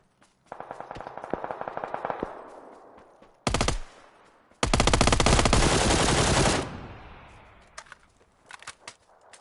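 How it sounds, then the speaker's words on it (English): Bursts of automatic gunfire from a JS9 submachine gun in PUBG, a solo match on PS5: a rapid rattle of shots, a short sharp burst, then a long loud sustained volley, followed by scattered single pops. "Oh, that's that JS9 gun."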